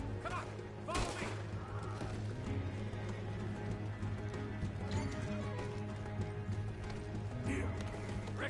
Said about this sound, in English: See the horses?